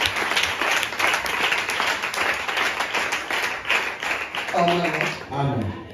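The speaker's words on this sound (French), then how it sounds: "Est-ce qu'on peut acclamer le Seigneur Jésus? Acclamons la parole de Dieu" A church congregation applauding and cheering to acclaim the word of God during a French-language Sunday service, a dense continuous burst of clapping with voices mixed in, tailing off into speech near the end.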